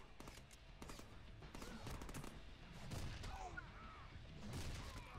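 Rapid gunfire rattles in a Deadpool video game, dense bursts of automatic shots overlapping one another continuously and fairly close, with no pause in the shooting.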